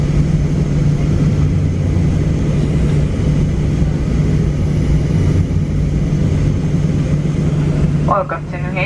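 An airliner taxiing after landing at New Haven, heard from inside the cabin as a steady, loud engine drone with a low hum throughout and a brief tonal sound near the end.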